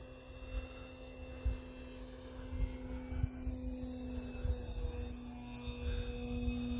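An E-flite Ultimate 3D RC airplane flies over a snowy field with a steady, thin electric motor whine held at a distance, the pitch drifting slightly as it maneuvers. Soft rumbles of wind or handling noise sit underneath.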